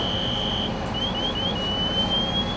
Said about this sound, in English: the pass alarm that sounds when someone wearing an SCBA is motionless for more than a few seconds